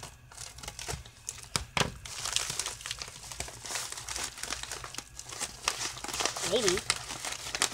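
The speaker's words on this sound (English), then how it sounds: "let's just get right into cutting this thing open." A package being cut open with scissors, with close crinkling and crumpling of packaging, sharp snips and tearing, while a person talks quietly over it.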